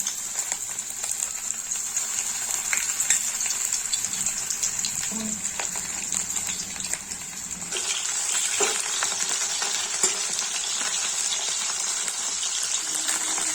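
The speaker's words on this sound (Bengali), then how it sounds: "তেল গরম হয়ে গেছে, এবার চিকেন গুলো একে একে দিয়ে দেবো।" Chicken pieces dropped one by one into hot oil, frying with a steady bright sizzle and gushing crackle that swells after a few seconds, close and loud with no talking.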